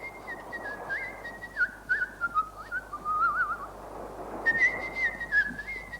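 Someone whistles a wavering, sliding melody in two phrases, the tune drifting up and down with a short pause between, over a soft background hum.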